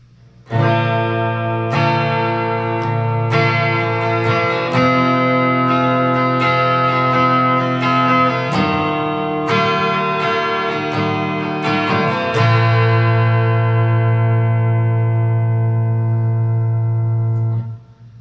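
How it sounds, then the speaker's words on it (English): A Grote GR Standard T Telecaster-style electric guitar on its bridge pickup, volume and tone fully up, strums a series of ringing open chords, loud and close, with the last chord left to sustain and fade. "Now we're going to do some basic open chording. I'm in the bridge position, volume's all the way up, tones all the way up."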